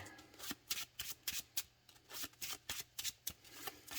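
Magic: The Gathering cards shuffled close up in short, quick riffles and snaps that come in an uneven rhythm over a few seconds. No one speaks.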